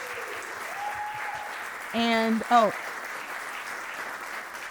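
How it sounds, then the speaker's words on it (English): Audience applause at a talk on building a thriving community: steady clapping fills the room, with a short excited vocal exclamation rising above it midway. "So I want everybody can just give a huge round of applause"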